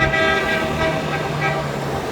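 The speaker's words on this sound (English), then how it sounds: "Of course, there's honking." Car horns honk in busy Beirut street traffic without traffic lights, a sustained blaring toot over dense engine rumble and street noise.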